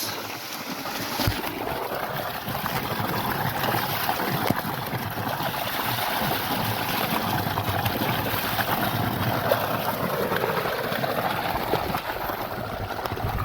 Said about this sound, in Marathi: थोडं खड्यात पाणी चालू करू